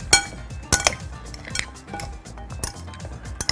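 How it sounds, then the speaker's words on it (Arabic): A freekeh salad with apples is tossed in a bowl with utensils, giving light clinks and scrapes in a loose, irregular rhythm at close range. "نقلب السلطه"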